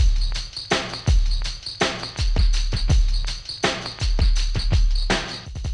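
A slowed-down, pitched-down drum break for drum and bass, neurofunk or dubstep loops with heavy, booming kicks and crisp snares in a slow, chunky groove.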